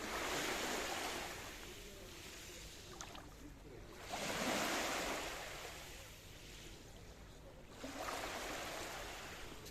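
Ocean waves break on a beach at Paphos, Cyprus, rolling in and washing out in slow surges about every four seconds, with light wind noise on the microphone.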